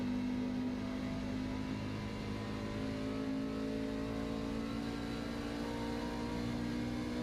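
A racing truck engine in a video game drones at high revs, a steady buzzing roar with a constant pitch, no voices present.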